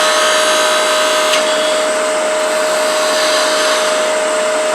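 A wood lathe spinning fast, around 2600 rpm, while a small wooden mouse is shaped: a loud, constant high whine with a steady motor hum and a rushing hiss, unbroken and close throughout.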